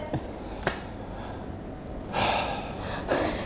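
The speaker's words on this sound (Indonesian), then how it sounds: "Kok udah tarik napas aja gitu." Sharp breathy inhales come in separate bursts, one quick gasp early and longer audible intakes of breath later, close to the microphone with no speech.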